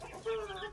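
Aseel hens give a brief, quiet cluck close by, a short rising note with no speech over it.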